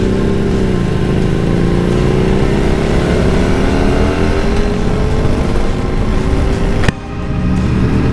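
Harley Davidson Street Glide engine pulling hard under acceleration, a loud, close, rising rumble that climbs steadily in pitch before a sudden drop near the end.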